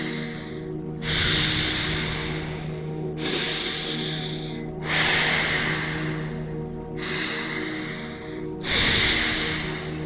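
Alternate nostril breathing during a guided breathwork session: slow, close nasal inhales and exhales alternate in a steady rhythm of five breaths, each a soft, airy rush with brief pauses between, no talking.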